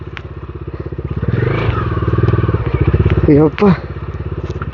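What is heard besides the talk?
motorcycle riding on a bumpy off-road track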